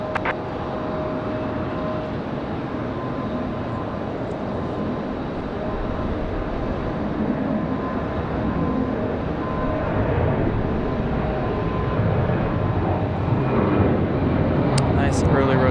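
Boeing 737 taking off from runway 23 right at Raleigh-Durham International Airport: a steady, broad jet roar that fills the whole stretch and slowly swells louder toward the end, with faint background voices possible.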